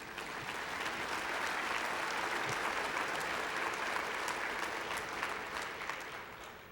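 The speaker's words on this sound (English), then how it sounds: "That deserves an applause right there." Audience applause at a gathering honoring Dr. Ron Paul, a sustained, even roar of many hands clapping that holds steady for several seconds, then eases slightly near the end.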